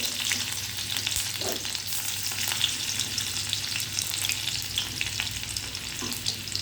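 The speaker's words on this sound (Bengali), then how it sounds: "তারপরে যে তেলটা বেঁচে থাকবে ওই তেলের মধ্যে দিয়ে দেব চপ করা আদা রসুনের টুকরো" Chopped ginger and garlic frying in leftover oil after bhindi was fried, a dense continuous loud sizzle with faint stirring underneath, close and steady, no voices.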